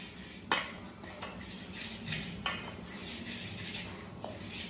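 A metal spoon stirs spices together in a metal cooking pot while pickle is being made, giving repeated clinking scrapes and taps against the sides, close and fairly quiet, with no talk.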